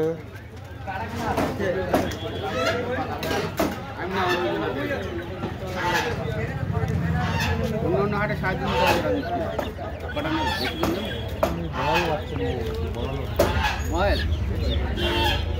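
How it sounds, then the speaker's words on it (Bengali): Chickens, ducks, Chinese geese and chicks crowd a large village poultry market, with roosters crowing and hens clucking amid constant human chatter and bargaining voices nearby. "এখানেও মুরগির বাচ্চা, হাঁস, এই যে চীনা হাঁস, এটা বড় চীনা হাঁস।"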